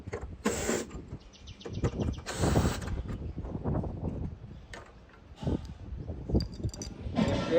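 Screws being loosened on a hand seeder (token planter) to remove its plate, with close metallic clicks, jangles and scraping handling noises in an irregular sequence, no talk.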